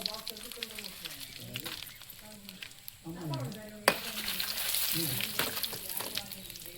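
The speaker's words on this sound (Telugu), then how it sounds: "నూనె కాగి రెండు మిరపకాయలు వేయించేసుకుందామండి" Red chillies frying in hot oil in a village kitchen, a steady close sizzle with stirring scrapes, under a voice talking throughout.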